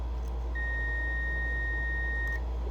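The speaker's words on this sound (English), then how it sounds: "Hear it beeping, beeping, beeping, beeping. Has good continuity." A steady, continuous electronic beep from a multimeter continuity test on a lawnmower ignition switch holds a single high tone for about two seconds over a low background hum, then cuts off.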